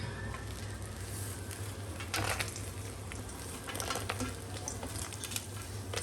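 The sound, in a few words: peanuts frying in oil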